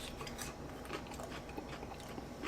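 Bacon-wrapped asparagus from a grill being bitten and chewed close to the mic, a quiet series of irregular crunchy bites over a faint background hum, no talking.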